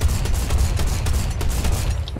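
Gunfire in an arena shooter video game comes as rapid, closely spaced shots in a sustained burst, loud and booming over a low rumble, with no speech.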